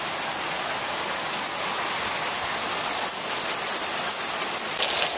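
Heavy rain pouring down, a dense, loud, continuous hiss of drops on surfaces with no voices, steady throughout.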